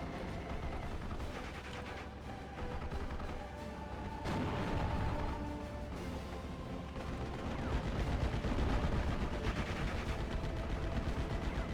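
Pintle-mounted machine guns fire at an aircraft in a war strategy video game. Steady rattling bursts of gunfire mix with mechanical battle noise throughout and grow louder toward the end.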